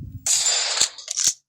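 Gunfire in the mobile shooting game Free Fire: a sharp burst with a bright hissing blast followed by two distinct cracking shots, loud and close, with no speech.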